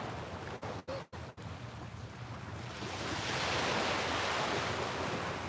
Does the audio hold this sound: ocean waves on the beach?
yes